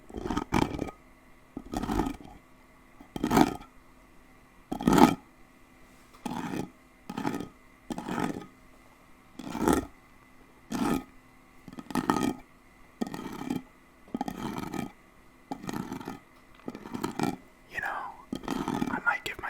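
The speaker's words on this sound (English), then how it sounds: "I didn't think I would like this scratching noise." Close-mic ASMR scratching: a series of about a dozen soft, rhythmic rasping scrapes right against the microphone, evenly spaced with quiet gaps between them.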